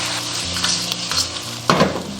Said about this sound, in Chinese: 沿锅边喷一喷料酒，下入几个姜片去腥。